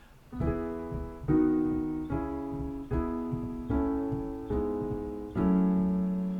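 A keyboard melody rings out over sustained chords, with six distinct phrases struck in a steady rhythm, each chord swelling then decaying, close and clear.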